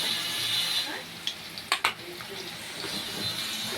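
Onions and potatoes fry in a pan with a soft, steady sizzle, broken by a few sharp scraping clinks of a utensil stirring against the pan.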